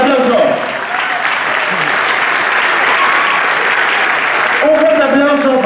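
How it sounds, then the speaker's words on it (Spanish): An audience claps steadily and loudly for a dancer at a choreographic stage show. A voice is heard briefly at the start and again near the end over the clapping. "Un fuerte aplauso para el señor Emiliano Gipponi."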